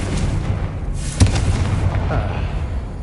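A Confringo fire spell blast in Hogwarts Legacy: one sudden booming burst cutting through steady game ambience, short and fairly loud, with a faint rumbling tail and no talk over it.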